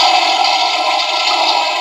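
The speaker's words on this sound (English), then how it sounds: "there's a flush button." A toy dollhouse toilet's flush button sets off a steady electronic rushing-water flush, loud and continuous with no talk over it.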